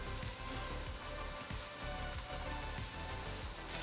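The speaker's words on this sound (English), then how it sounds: "when you're searing, you want to keep it up nice and high, the temperature" Beef searing in a hot pot for pot roast, a loud, continuous close-up sizzle with dense crackling and no voices.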